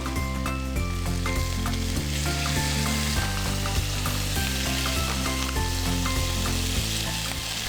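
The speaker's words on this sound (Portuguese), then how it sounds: "E vamos colocar os cubos de carne para dourar." Beef cubes browning in a pan, giving a loud, continuous sizzle and crackle with occasional stirring clatter, steady and close throughout.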